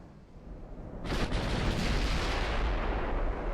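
Heavy 15-inch naval guns fire in the warship game Ultimate Admiral Dreadnoughts, a single loud booming blast that rolls into a long, rumbling decay.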